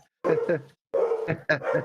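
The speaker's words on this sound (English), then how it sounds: "my dogs are barking upstairs too" Dogs barking upstairs in a home, two bursts of barking with a brief gap between, fairly close and loud, with no talk over them.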